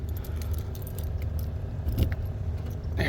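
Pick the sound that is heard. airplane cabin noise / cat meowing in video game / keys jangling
keys jangling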